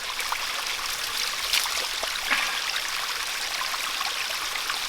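Glacier-fed stream in Iceland rushing and gurgling in a steady, unbroken wash of water, close and moderately loud, with no talking.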